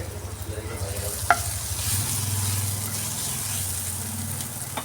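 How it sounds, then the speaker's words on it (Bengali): Small-cut chopped vegetables fry in a pan for white sauce pasta, a constant loud close sizzle with a low bubbling rumble and one sharp clink of a utensil, no talking. "দেখুন সবজিটা এটাকে খুব ভালো করেই ভেজে নিতে হবে।"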